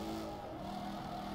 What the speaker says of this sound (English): I like the sound of them tyres screeching.